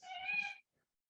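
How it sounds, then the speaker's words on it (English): A house cat meows once, a short drawn-out call close by indoors, then silence. "my cat is trying to get into the cupboard behind me"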